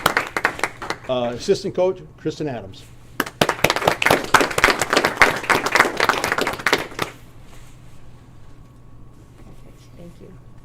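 Audience clapping at a school board meeting, a dense burst of claps from about three to seven seconds following a spoken announcement, then fading out.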